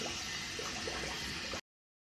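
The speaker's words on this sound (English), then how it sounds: "So I'm just going to put some hot water on my face." Hot water splashes and runs steadily from a flannel onto a face, a continuous close wet wash that cuts off abruptly.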